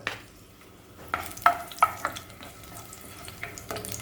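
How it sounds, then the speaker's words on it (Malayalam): Chopped green chillies and oil hissing in a hot pan, a faint low sizzle with a few sharp crackles and pops near the start. "അതിലേക്ക് നമുക്ക് കുറച്ച് ഓയിൽ ഒഴിച്ചു കൊടുക്കാം അരിഞ്ഞു വെച്ചിരിക്കുന്ന പച്ചമുളക് അതിലേക്ക് ഇട്ട് കൊടുക്കാം"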